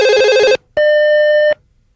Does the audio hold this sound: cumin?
no